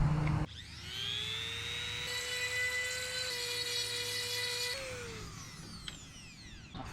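Rotary tool spinning a flap wheel against a Mazda Miata part during a restoration, a steady high whine with sustained grinding that shifts pitch partway through, close and loud with no talk.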